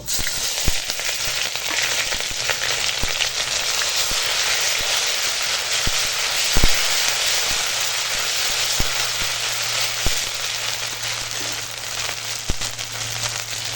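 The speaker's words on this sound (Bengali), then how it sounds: "এখন তেল গরম হয়ে গেছে এখন ফোড়নে দিলাম তেজপাতা আর পাঁচ ফোড়ন" Bay leaf and five-spice seeds tempering in hot oil, giving a loud, dense, continuous sizzle with scattered sharp crackles and pops close by.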